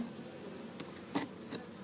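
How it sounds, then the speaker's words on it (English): Soft, continuous buzzing of many honey bees close by at a hive, a faint steady drone with a few louder passes. "You can see the bees working away."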